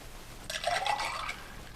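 A short burst of Bloody Mary mixture being poured into a glass, a brief splashing trickle that starts abruptly and fades within a second.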